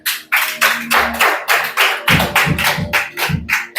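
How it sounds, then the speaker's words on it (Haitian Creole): A church congregation claps in unison to applaud the Lord, a steady run of about a dozen loud, evenly spaced claps filling the room, with faint music beneath. "On applaudit le Seigneur."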